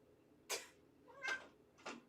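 A cat meows three times at a steady pace, each call short and fairly faint, heard close by in a quiet room with no talking.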